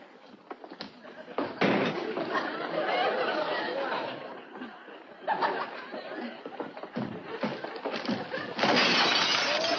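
Glass shatters and breaks amid busy clattering and slams, with bursts of crashing over several seconds and chatter and laughter mixed in.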